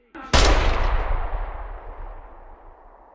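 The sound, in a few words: gunshot in the VR video game Bravo Team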